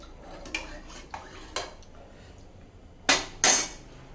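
Metal spoon stirring water and salt in a cooking pot for rasam, a few sparse clinks and taps against the pot with two sharper knocks near the end, close and isolated.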